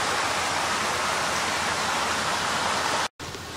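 A creek runs steadily below a mountain road near an abandoned town in Pennsylvania, a broad even rush of flowing water that cuts out briefly near the end.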